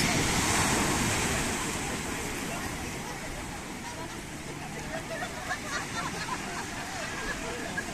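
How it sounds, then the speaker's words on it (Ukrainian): Strong ocean waves at Puerto de Santiago, Tenerife, surge in a steady, broad roar with wind buffeting the microphone, while faint voices murmur in the background. "Хвилі дуже сильні просто."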